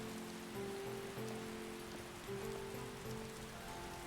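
Rain falls in the video game Skyrim, a steady soft hiss of drops on surfaces beneath a low, sustained musical drone with shifting tones, with no talk over it.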